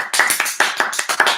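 A single person claps hands in a quick run of about eight sharp claps, close and loud with no voice over them.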